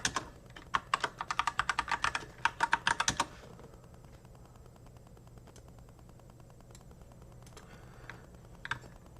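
Rapid computer keyboard typing as a password is entered, a burst of close, crisp key clicks for about three seconds, then a quiet room hum with only a few scattered taps.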